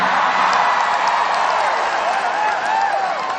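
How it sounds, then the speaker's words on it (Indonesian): Steady, dense applause and cheering from a large audience at a presidential speech by Prabowo, continuous and fairly loud throughout with a faint whoop or two mixed in. "Kok tepuk tangannya paling keras nih"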